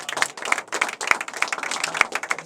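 Audience clapping after a worship song in a church music program, a loose run of sharp claps spread across the whole moment, fairly close and steady.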